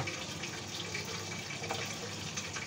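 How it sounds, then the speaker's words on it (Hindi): Water is poured steadily into a pot of lauki gosht, a continuous soft rushing and splashing at low volume with no pauses. "ये पानी ऐड कर दिया हमने"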